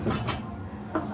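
A cooking pot set down on a home kitchen stove, giving a couple of close metallic clanks and a lighter knock a moment later, with no talk.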